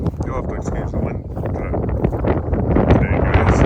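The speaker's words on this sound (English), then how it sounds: "You'll have to excuse the wind" Wind gusts buffeting the microphone outdoors at a farm machinery auction in Eastern Kansas, a loud rumbling roar that is constant throughout.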